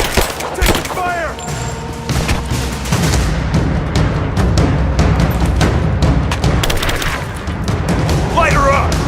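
Gunfire in a firefight in Rise of the Tomb Raider, dense bursts of rapid shots and booming impacts from several weapons, loud and continuous, with soldiers shouting commands in between.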